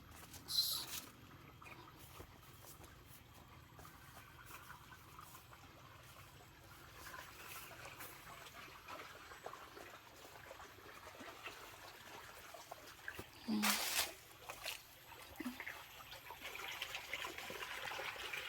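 Irrigation water flowing across a banana farm in the dry season, a faint, continuous outdoor trickle and stream with scattered brief bumps and knocks, heard without talk.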